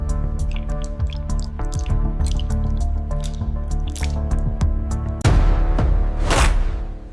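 Caviar drains with a rapid run of wet drips and soft squishes, close and distinct, building to a denser splashing flurry toward the end.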